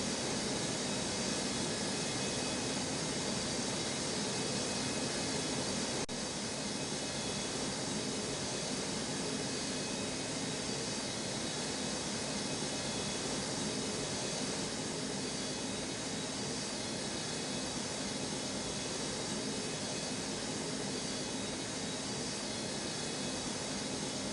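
Steady, loud broadband roar of a jet airliner taxiing toward a de-icing pad at snowy Newark airport, constant and unbroken throughout.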